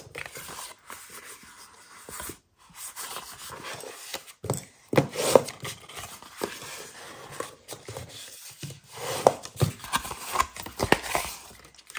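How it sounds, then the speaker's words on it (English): A bone folder burnishing the folded score lines of paper for a small squeeze-top box, heard as soft, close rubbing and scraping strokes in irregular bursts with light taps and pauses. "we're gonna fold on all the score lines and burnish with our bone folder"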